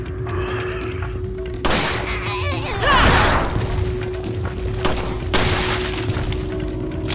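Several sharp gunshots and booming blasts in Resident Evil 4 Separate Ways, with a steady electronic hum and layered game effects running underneath.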